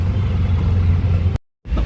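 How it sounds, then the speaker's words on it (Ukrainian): A car's low engine rumble and road noise are heard steadily from inside the cabin in India, cutting to silence briefly before resuming. "Їду тепер на машині."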